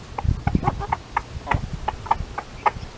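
Chickens on a farm clucking in short, irregular bursts, several close calls over soft scuffling and low rustling, with no talk.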